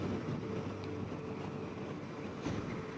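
A Yamaha XSR700 motorcycle engine runs steadily with a low, rumbling drone during a ride, mixed with wind and road noise and no speech.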